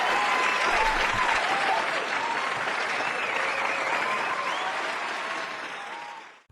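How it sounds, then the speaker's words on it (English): Sustained applause and cheering from a comedy club audience after a stand-up set, a thick wash of clapping with voices whooping on top, holding steady before fading out at the end. "The audience rose to their feet, clapping and cheering with wild abandon."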